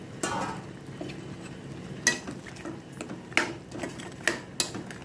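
Drumstick and raw mango avial being stirred in a pot, giving a few scattered scrapes and clinks of a spoon against the metal, fairly close and quiet, with no talking.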